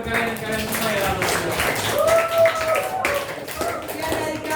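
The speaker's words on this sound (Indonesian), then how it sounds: "Tepuk tangan untuk teman kalian semua ya." Classmates applaud together during a school supervision session, a steady wash of hand clapping lasting several seconds while voices and chatter carry on through it.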